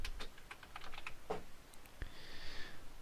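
Quiet tapping on a computer keyboard, a quick run of keystrokes followed by a few scattered taps, close but soft in a still room.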